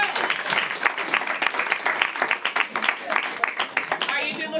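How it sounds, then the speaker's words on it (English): An audience claps for Mama at a live event, with dense, steady applause, close and lively, while voices talk over it. "You guys clap for Mama"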